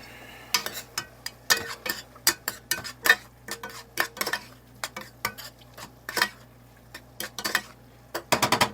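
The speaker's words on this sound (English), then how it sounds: "And let's mix that up." A spoon clinks and scrapes while stirring stuffed bell pepper filling with Cajun spice mix, making a long run of sharp, irregular taps and knocks, close and clear, with a faster cluster of clatters at the end.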